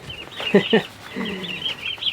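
Farm turkeys give a few close clucking calls followed by softer chirping and murmuring, the flock fairly near and moderately loud against a quiet outdoor backdrop.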